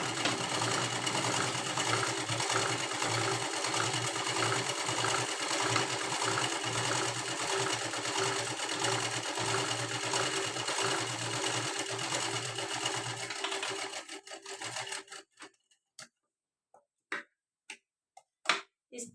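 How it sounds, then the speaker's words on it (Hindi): A sewing machine runs steadily for about fourteen seconds, stitching half-inch folded strips of an unlined princess-cut blouse. It then stops, leaving a few sparse ticks and clicks. "इसको भी आधा इंच अंदर की तरफ मोड़ना है और सिलाई लगानी है।"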